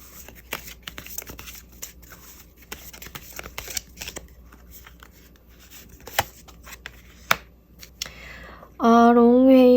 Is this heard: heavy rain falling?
no